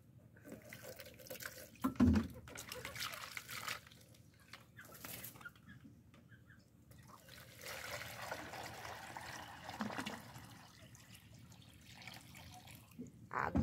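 Clean water pours and trickles from a tap into a container for quails in a backyard coop, a steady running splash with a louder gush near the start and softer flow afterward.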